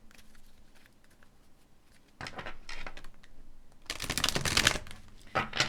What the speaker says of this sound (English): Let's give these a shuffle.